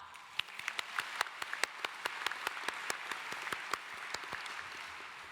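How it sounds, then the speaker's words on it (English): Sparse, evenly spaced claps from a high school graduation audience, a thin scattering of hands rather than a full ovation, fairly faint and steady throughout with no talk. "Let's have another round of applause."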